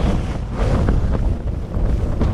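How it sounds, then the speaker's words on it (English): Storm Arwen wind gusts of around 50 mph batter a Hilleberg Soulo tent, a loud, roaring, buffeting rush with heavy rumbling microphone wind noise that swells and dips without pause. "we've gone from 30 mile an hour gusts up to must be 50 mile an hour gusts now"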